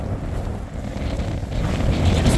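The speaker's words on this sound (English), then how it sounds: "It's really, really windy." Strong wind on the Appalachian Trail in Virginia buffets the microphone in a continuous low roar that grows slightly louder toward the end, with no voices.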